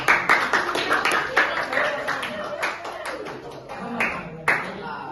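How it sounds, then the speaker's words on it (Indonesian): A classroom of students claps hands during a microteaching lesson in quick, uneven bursts that are fairly close and loud, then thin out into scattered claps. "Tepuk tangan semuanya."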